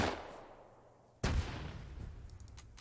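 A single Panzerfaust launch in the Arma 3 IFA3 mod: one sharp, loud blast breaks a quiet lull, followed by a booming, slowly fading rumble with faint clicks trailing behind.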